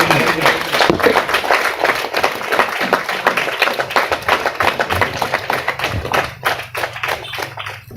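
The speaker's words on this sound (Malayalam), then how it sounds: "നല്ലൊരു കയ്യടിയാവാം" An audience at an event opening a medical camp for elderly people claps steadily for several seconds in dense, loud applause that thins out near the end.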